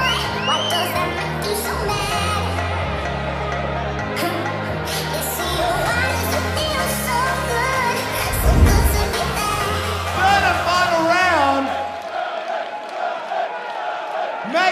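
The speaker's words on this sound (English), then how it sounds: "Fighters, the crowd is up." A live crowd roars, whoops and shouts at a corporate amateur fight as the third and final round begins. The noise is loud and continuous, with swells of cheering and scattered high yells, then drops off sharply near the end.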